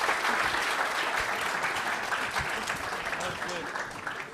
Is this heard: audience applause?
yes